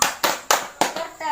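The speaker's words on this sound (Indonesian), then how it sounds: "Kita permainan tepuk P2K2 Pak Ibu ya." Four sharp, evenly spaced claps ring out from a group of adults playing a rhythmic clapping game at a family learning session in Indonesia, followed by a brief murmur of voices at the end.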